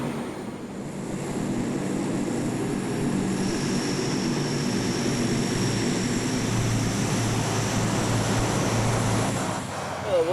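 An LC-130 Skibird propeller aircraft taxis on snow in Greenland, giving a steady, broad engine and propeller roar at moderate distance that holds evenly throughout.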